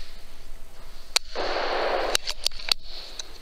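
An air rifle fires during pest control at a rat feeding on grain: a few sharp, close cracks, one followed by a brief hissing burst, over a quiet outdoor background.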